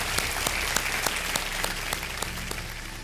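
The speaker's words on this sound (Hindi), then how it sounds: "तालियों के साथ हम इनका एक बार फिर स्वागत करते हैं" Studio audience on a Hindi-language TV quiz show applauding, a full, continuous burst of clapping with a few sharp louder claps standing out near the front, with no voices on top.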